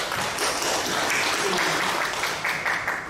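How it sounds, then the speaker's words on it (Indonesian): A church congregation at a women's fellowship service claps for its committee members, steady dense applause filling the whole moment at close range with no talking over it. "Kasih aplaus dulu buat pengurus."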